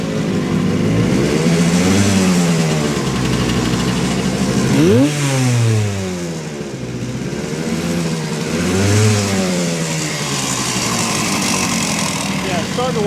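A 1970 Suzuki T350 two-stroke motorcycle engine warms up, running loud and close with repeated swelling revs that rise and fall every few seconds, while a voice talks over it.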